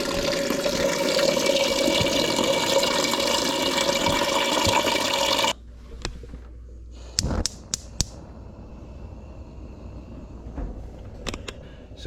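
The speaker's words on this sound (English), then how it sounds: "Just fill it on up with cold water." Cold tap water pours loudly and steadily into a pot of eggs for about five seconds, then cuts off, leaving faint room noise and a few sharp clinks and taps.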